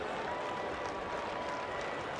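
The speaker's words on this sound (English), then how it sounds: "And the crowd ought to give him a standing ovation." Baseball stadium crowd at Coors Field applauding and cheering after a home run, giving a standing ovation; steady broad wash of clapping and crowd noise, moderately distant and continuous.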